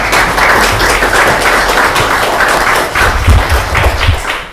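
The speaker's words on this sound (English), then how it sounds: "round of applause" Audience at a live industry talk giving a round of applause, a dense, fairly loud patter of clapping hands with a few heavier thumps near the end.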